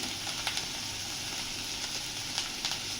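Spice paste is sautéed in a pan, giving off a loud, steady hiss and sizzle with a few soft clicks of stirring and no voice over it.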